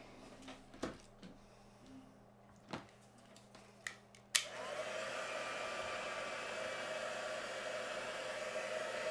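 Hair dryer drying a piece of artwork. A few sharp clicks and taps come first, then the blower switches on and runs as a steady, close rushing whoosh to the end.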